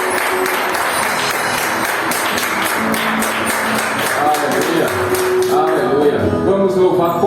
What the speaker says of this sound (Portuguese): Você pode dar a sua melhor salva de palmas para Jesus nessa